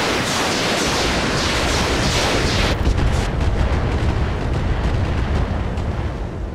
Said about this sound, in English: Fire the missiles on this guy since they're the best chance to hit.